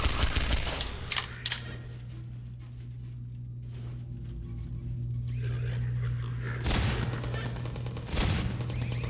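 Gunfire in the Half-Life 2 video game, a few sharp loud shots spaced across the stretch over a steady low hum and fainter background activity.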